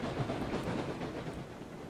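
A locomotive in the video game RailRoads Online reverses with a faint, steady rumbling and hissing rail noise, soft and continuous with no voices.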